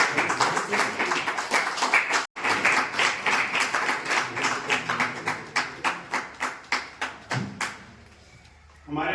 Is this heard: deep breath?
no